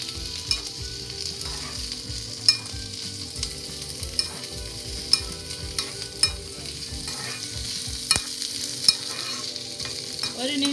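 Onions sautéing in oil for a spicy sambal served with dosa, a steady low sizzle with occasional clicks of stirring against the pan, heard alone.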